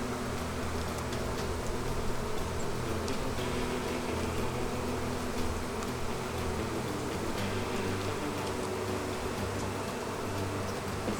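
Honey bees pour out of an opened beehive in a steady, dense hum that stays constant and fairly faint throughout, like a broad whirring drone with no pauses.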